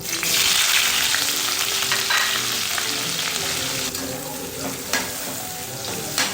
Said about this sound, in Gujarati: આ જ રીતે કેપ્સિકમને પણ આપણે તળી લઈશું.